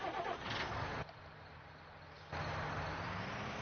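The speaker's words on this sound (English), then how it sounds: "we'll bring this tractor back to the farm" A tractor engine in Farming Simulator 19 starts up and runs with a dense, steady mechanical roar that dips briefly, then swells back louder.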